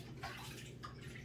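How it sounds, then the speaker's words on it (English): Water splashes and drips inside a 75-gallon aquarium during aquascaping, in two short close bursts of splashing over a low continuous background hum. "I can splash it a little bit while I'm in here anyways, just to keep it wet."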